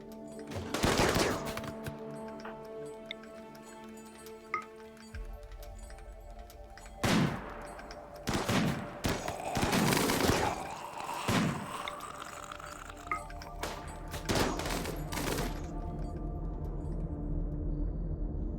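Gunfire in the colony game RimWorld, with repeated bursts of shots and impacts over several seconds against steady background music.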